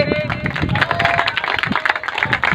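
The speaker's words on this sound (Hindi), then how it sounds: "आप सभी तालियों से" Applause and clapping from a gathered group at a Brahma Kumaris ceremony where stickers are put on a car; a steady wash of hand claps fills the clip, with a voice speaking over it throughout.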